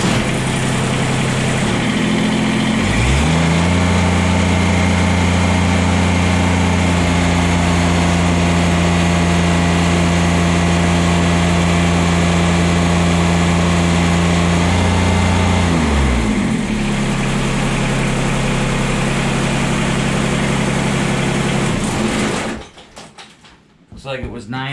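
A Kubota BX compact tractor engine runs steadily under load as the loader lifts, its drone dipping in pitch for several seconds during the pull before recovering, then cutting out near the end.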